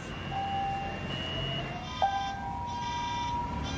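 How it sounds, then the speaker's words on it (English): A fire alarm beeps inside an abandoned hotel lobby in the aftermath of the September 11, 2001 disaster, steady high electronic tones and intermittent chirps sounding over a constant low ambient hum. "to a fire alarm begging to be logged off"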